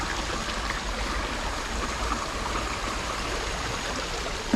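Water flowing steadily from hoses outdoors, a constant rushing splash like a stream that stays even and fairly loud throughout, with no talk.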